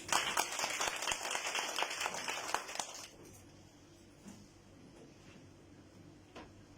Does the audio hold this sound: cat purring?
no